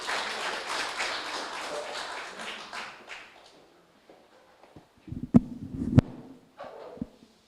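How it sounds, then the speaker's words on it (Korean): A dense burst of audience applause at a literary talk event rises and then fades out over a few seconds, followed by near silence and a few scattered thumps and taps. "여러분 큰 박수 부탁드립니다"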